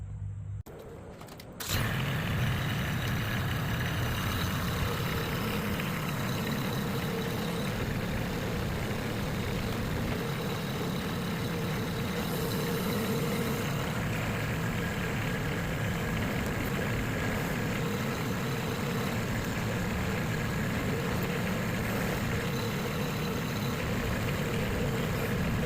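A tractor engine runs steadily at a low, even rumble throughout, close by and continuous, after a brief quiet moment at the start.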